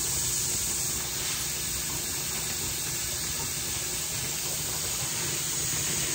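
Steady, loud broadband hiss and rumble of water boiling vigorously in a large canning pot on a stove burner, continuous without any breaks.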